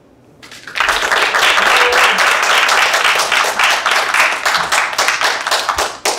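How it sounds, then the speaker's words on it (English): A room of listeners at an open poetry and fiction reading breaks into loud, close, sustained clapping that holds steady for several seconds before tapering slightly at the end. "Let's hear it for a big round of applause for everybody who read it."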